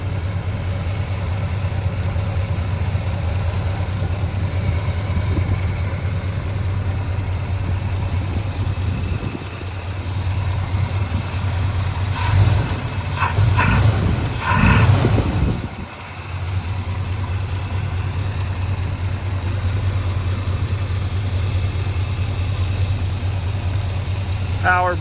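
A 1967 Pontiac GTO with a 400ci V8 and three-speed automatic idles smoothly and steadily at close range, a low even rumble broken midway by a brief louder patch of knocking noise.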